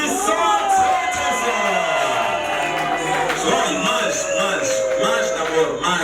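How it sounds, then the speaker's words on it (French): Wedding guests cheering and whooping in a lively crowd, a continuous dense roar of voices with excited shouts throughout. "Mesdames, messieurs, nous applaudissons très très fort."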